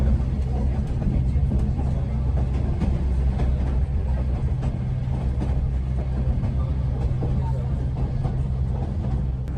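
White Pass & Yukon Route scenic railway train running along a narrow mountain ledge, a steady loud low rumble with a continuous drone throughout and no clear clacks.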